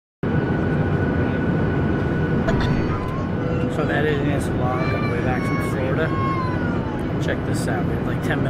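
Inside an airliner cabin during landing, a dense, loud roar of engine and airflow noise runs steadily throughout, with faint voices and a few brief tonal chimes or squeaks mixed in.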